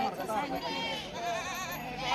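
Goats bleat at a busy livestock market in Shirur, Maharashtra, their wavering cries overlapping amid crowd chatter and murmuring voices of traders nearby.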